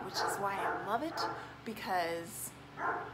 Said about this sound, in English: I'm sorry that my dog's barking,